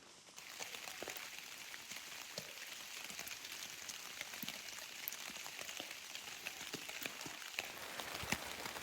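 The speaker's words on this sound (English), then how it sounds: "It is raining." Rain falling at a winter campsite along a rail trail, a dense steady patter of drops with scattered sharper individual hits, fairly close and continuous, no talking.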